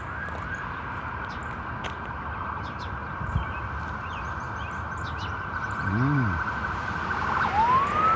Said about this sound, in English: Listen to all these sirens.